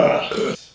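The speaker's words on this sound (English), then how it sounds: "More burping videos, please." A single short, throaty burp rumbles close to the mic and cuts off abruptly, followed by a brief vocal sound.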